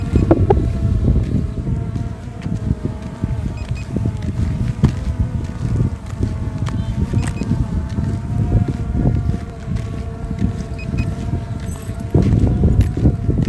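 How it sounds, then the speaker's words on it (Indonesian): Strong wind buffets a phone microphone outdoors during a test flight of an SJRC F11 Pro 4K drone, a loud continuous low rumble with gusty surges throughout and a faint steady tonal whine running over it. "Mungkin kalian bisa dengar suara angin"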